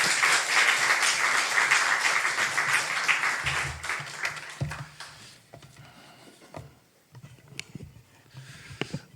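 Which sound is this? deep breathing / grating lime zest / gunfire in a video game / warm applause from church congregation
warm applause from church congregation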